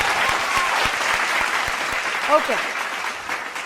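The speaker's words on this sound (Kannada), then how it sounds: "ಮೊದಲನೇದಾಗಿ ನಮ್ಮ ವಾದ್ಯ ವೃಂದದವರಿಗೆ ಬರಲಿ ಜೋರ್ ಚಪ್ಪಾಳೆ." A singing reality show audience gives the orchestra loud, sustained applause, a dense wall of clapping, with a voice briefly heard over it.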